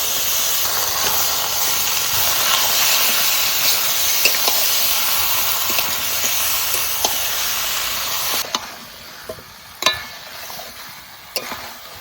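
Goat mutton hits hot oil fried with ground spices and gives a loud, steady, hissing sizzle for several seconds. It then quiets to a low simmer with sharp spatula clinks against the pan.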